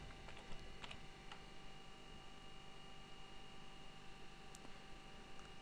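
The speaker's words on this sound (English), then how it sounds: "So I'm just going to type my name." Text being typed on a computer keyboard: a few quiet keystrokes clatter near the start, then the rest is a soft steady hum with no talking.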